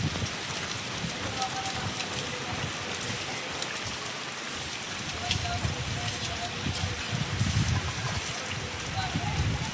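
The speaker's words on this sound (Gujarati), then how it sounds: "વરસાદ આવી ગયો" Rain falls steadily over a Gujarat village with cotton fields, a constant hissing patter on surfaces nearby, with faint indistinct voices underneath.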